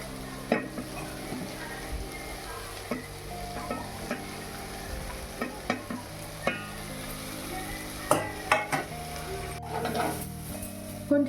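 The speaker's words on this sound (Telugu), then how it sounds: "కొంచెం ఫ్రై అయినాయి" Soya chunks frying in oil in a pan give a steady, close sizzle, with occasional knocks and scrapes of a stirring utensil against the pan.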